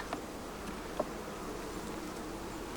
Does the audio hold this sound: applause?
no